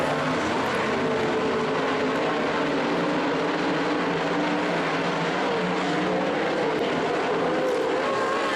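Race cars at Skagit Speedway roar together in a steady, dense engine drone from a standing start, loud and continuous throughout with no talk over it.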